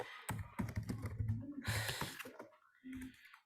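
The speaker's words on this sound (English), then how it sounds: "I'm gonna type it." A computer keyboard is typed on in short bursts of quick, close key clicks and taps, with brief pauses between them.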